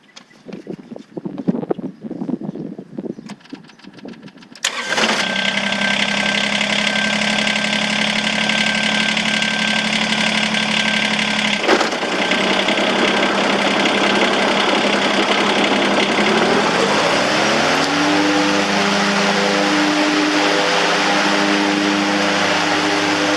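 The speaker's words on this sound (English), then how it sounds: "fire up the tractor and let the Mower Deck run for a few minutes" A Kubota BX2380 tractor with its mower deck engaged starts up after a few seconds of clattering, then runs loud and steady. Near the end, rising tones suggest the engine speed or deck whine changing.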